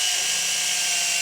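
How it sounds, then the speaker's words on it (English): Electric drill boring through PVC and the base of a light fixture, a steady high-pitched whine with harsh grinding noise that runs unbroken and close throughout, with no talking. "we're going to drill a hole through the PVC and through the light fixture base"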